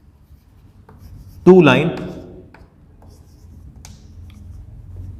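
Writing on a board during a maths lesson on straight lines, a soft scratching and tapping under a teacher's voice that speaks briefly in Hindi.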